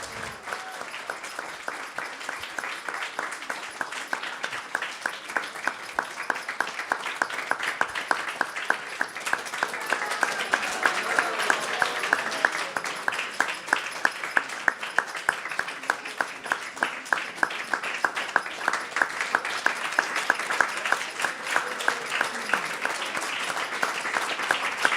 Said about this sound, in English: So if everybody can give a round of applause.